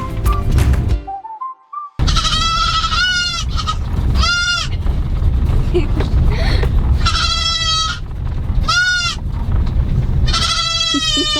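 Several goats bleat in quick succession, loud and close, with harmonic wavering cries over a steady background rumble after a brief quiet start.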